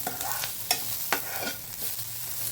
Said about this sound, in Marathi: इथे आपला असा कांदा परतला आहे बघू शकता तांबूस झालेला आहे